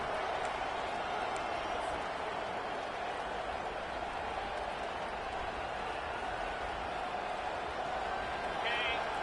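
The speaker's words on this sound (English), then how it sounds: "This crowd bringing the energy and noise early." A dense, steady roar of a large football stadium crowd fills the whole stretch, broad and unbroken, with a distant whistle near the end.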